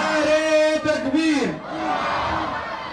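A crowd at a Khatm-e-Nubuwwat religious conference roars a takbir slogan response, loud massed voices rising together after a leading shout, then tailing off.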